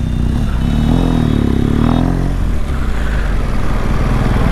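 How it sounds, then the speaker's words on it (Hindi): A motorcycle rides through busy Delhi traffic, its engine droning and revving loudly up close amid rattling clatter and surrounding road noise. "एज यू कैन सी अब मैं अपनी बाइक पे वापस आ गया हूँ"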